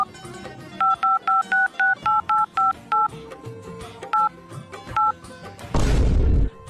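A phone keypad dials a rapid string of about a dozen clear DTMF tones in a steady rhythm, a few spaced apart, before a loud burst of noise cuts in at the end.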